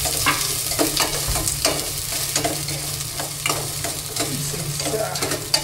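Onion, ginger and garlic sautéing in a hot pan, a steady loud sizzle with scraping stirs repeating every second or so over a low hum.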